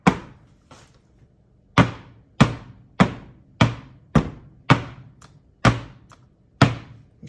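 Chocolate cake batter pans tapped down on a counter to knock out air bubbles: about ten sharp, hollow thunks in an uneven rhythm, close and fairly loud, with no talking.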